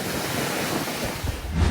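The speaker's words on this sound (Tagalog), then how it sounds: "Malahiganteng alon at malakas na hangin din ang tumama sa Pio Duran Port sa Albay" Giant waves and strong wind batter Pio Duran Port in Albay during a super typhoon, a steady roar of surf and gusting wind noise filling the whole clip, with a heavier low rumble swelling near the end.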